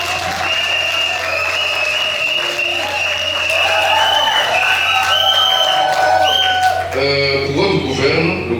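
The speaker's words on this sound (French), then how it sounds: "bien sûr, sous vos applaudissements" Guests applaud during a civil wedding ceremony at a town hall, steady clapping and cheering under ululating high voices and chatter, building slightly toward the end.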